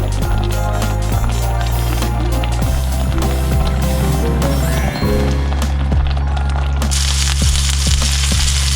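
Venison steak searing in a heated frying pan with olive oil and butter, a steady dense sizzle and crackle running throughout with occasional sharper pops and clinks.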